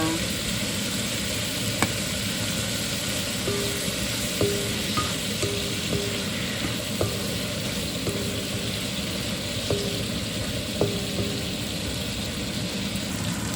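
Pancit noodles sizzle and fry steadily in a pan while being stirred, with soft periodic scrapes and clicks of the utensil across a continuous close hiss; no one speaks.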